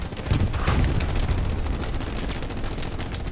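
Dense, continuous gunfire in the World War II shooter game Hell Let Loose, a loud rolling mix of rapid shots and booming blasts that stays heavy and unbroken throughout.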